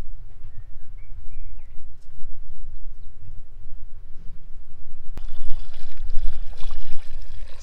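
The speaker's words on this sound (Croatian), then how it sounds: "Sipamo toplu vodu i sipamo 2 prsta iznad povrća." Warm water poured over vegetables in a clay pot for Bosnian pot stew, a steady close splashing pour that swells louder over the last couple of seconds, with no talk.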